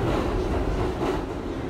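A moving subway car gives a steady rumbling rush of rail noise, close and moderately loud, with no talk over it.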